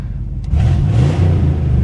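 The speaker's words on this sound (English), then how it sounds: "Exhaust sounds terrible." A 1975 Chevrolet Monte Carlo V8 with a poor-sounding exhaust rumbles low and rough after a brief quiet moment, running steadily at close range.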